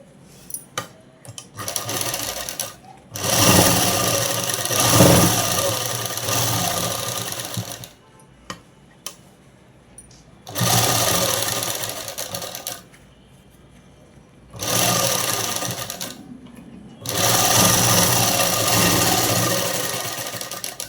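A sewing machine runs in several bursts of steady whirring stitching on a child's dress, loud and close, separated by short pauses with light handling noise.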